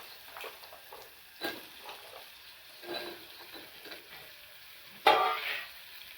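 Pumpkin pieces stirred and fried in a pan for a vegetable dish, a soft low sizzle broken by scattered scraping stirs and one louder clatter of the spoon near the end, no talking.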